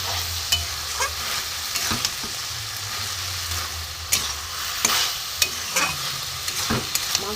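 Spiced, marinated chicken stir-fries in a pan with no water added. A steady loud sizzle runs throughout, and a spoon scrapes and knocks against the pan at irregular intervals.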